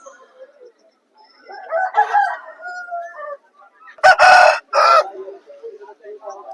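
A year-and-a-half-old rooster with eagle-coloured plumage at a Vijayawada market crows loudly and nearby, with softer clucks before and after the crow.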